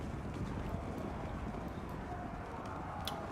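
Horses gallop in the fantasy battle video game Total War Warhammer 2, with masses of horsemen and horse masters charging. A dense, steady rumble of hoofbeats continues throughout, mid-distance, with no voices.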